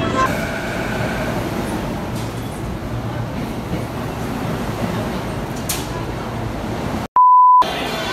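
Train rumble and rail noise at Tsurumi Station in Japan, a steady loud wash of a running train with a brief pure electronic beep near the end.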